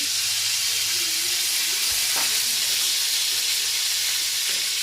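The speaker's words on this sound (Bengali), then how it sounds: "কালো জিরেটা এই যে দিয়ে দিলাম" Black cumin seeds sizzle steadily in hot oil for a vegetarian tempering, a constant bright hiss close by with no talk over it.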